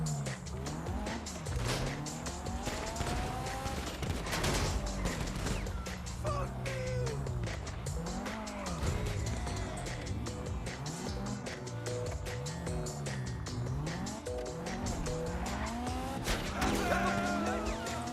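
A car drives in GTA V with its engine revving up and down through the gears and tires squealing over and over, all set against dense, busy game sound.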